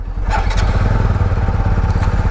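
Yamaha R15 V3 and Bajaj Pulsar NS200 motorcycles pulling away together on a group ride, their engines thumping into a loud, steady, close rumble after a short quiet start.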